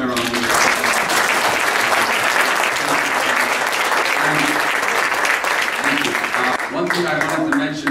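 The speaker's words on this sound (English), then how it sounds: "Please give them a round of applause." An audience at a human rights panel in Armenia breaks into steady, dense applause for the panelists, sustained and even for several seconds, with a voice surfacing briefly near the end.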